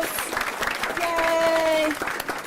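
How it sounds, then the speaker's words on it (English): Applause from the audience at a school board meeting, steady clapping and murmurs filling the room for a couple of seconds with voices and whistle-like tones over it. "let's give everybody another quick round of applause"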